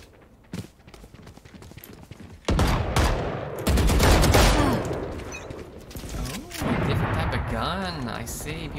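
Operator sniper rifle fire in Valorant, heard as sharp, loud reports over busy in-game combat noise, with voices talking over the action.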